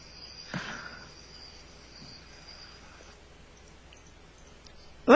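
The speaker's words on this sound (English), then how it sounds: "I can actually hear the crickets" Crickets chirp outdoors in a faint, thin, high-pitched trill running under a quiet background, with a few soft clicks and a sudden louder bump at the end.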